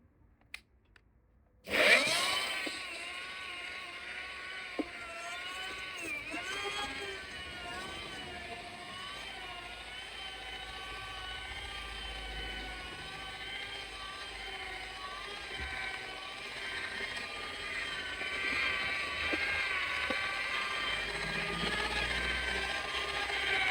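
A polishing machine buffs polish off a Fiat 500L car panel at slow speed, a steady close whirring drone with a rattly mechanical edge that starts abruptly and runs continuously, swelling slightly toward the end.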